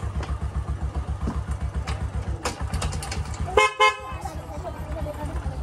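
Car horn honked on arrival at a house: two short toots close by over a low idling engine, with people talking throughout.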